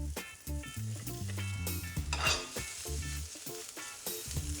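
Potatoes sizzling in a pan with onions for dosa masala, a steady close crackle of frying with clattering stir sounds on top, fairly quiet overall.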